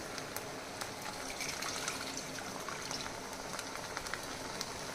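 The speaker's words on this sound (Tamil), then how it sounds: "நல்லா புளி தண்ணி போட்டுக்கலாம் பாருங்க. பச்சை வாசனை போகிற வரையிலும் நல்லா கொதிக்க விட்டுக்குவோம்" Tamarind water simmering in a pan for Pavakkai Pitlai, a steady soft bubbling and fizzing with small popping bursts, close and fairly quiet, without talk.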